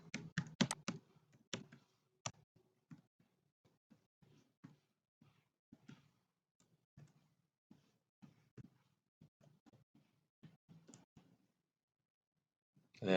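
Someone types an email address on a computer keyboard: irregular bursts of crisp, close key clicks, quick runs separated by short pauses, with no speech.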